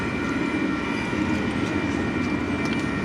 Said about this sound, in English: And there's the end of the train.